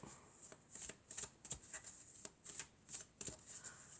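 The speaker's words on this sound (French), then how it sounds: "je vais prendre quelques cartes de l'oracle de la Triade" Oracle cards are shuffled in a quiet room, producing a soft, rapid run of papery riffles and flicks that repeat irregularly for several seconds, faint and close, with no voices.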